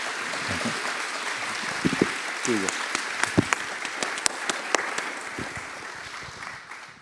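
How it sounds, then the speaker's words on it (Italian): Applause from the audience at a public talk on physics and literature, a steady wash of clapping with a few louder individual claps standing out and some voices mixed in. "applauso a Juanjo."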